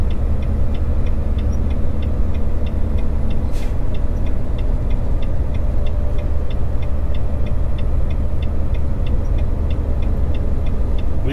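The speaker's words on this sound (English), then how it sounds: "Descending on ninth gear, and Jake Brake is at full capacity." A truck's Jake Brake runs at full capacity while descending in ninth gear on a highway from Idaho to Montana, giving a loud, steady engine drone throughout with a faint rapid ticking above it and no speech.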